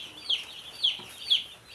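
Newly delivered hatchery chicks at a poultry farm give three thin, high peeps at even intervals, faint and fairly close over a quiet background.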